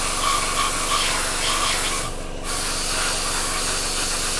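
A dual-action airbrush running at 30 psi sprays primer onto a 1/72 scale model Jaguar, giving a steady close hiss with a brief dip partway through, and no talk.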